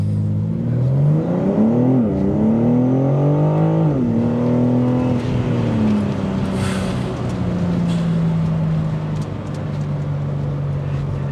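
Engine and exhaust of a 2025 BMW M4 Competition xDrive convertible driven with the top down, loud and close, pitch rising and dropping through gear changes before settling into a steady drone.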